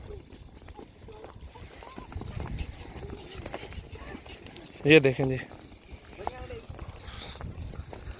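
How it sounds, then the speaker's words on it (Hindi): Kamori goats walk around a farm, their hooves giving a steady clip-clop clatter while someone talks over them almost throughout. "चलता हुआ देखें बकरियों को"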